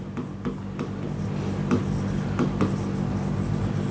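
Chalk or marker strokes on a classroom board during a physics lesson, a steady run of scratchy taps and scrapes, close and fairly loud, with no talk over them.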